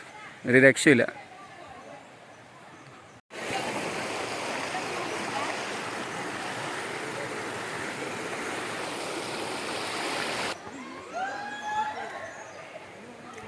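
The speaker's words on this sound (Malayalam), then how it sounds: "കാളന്തി പുഴയാണ്" A flowing stream of the Kalanthi river in Wayanad gives a steady, full rush of water for several seconds, set between short stretches of excited talk at the start and end.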